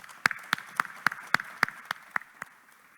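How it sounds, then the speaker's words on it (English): Applause at a college homecoming awards presentation, heard as about ten distinct, evenly spaced claps, fairly faint and close, with no talking. "Let's give them a round of applause."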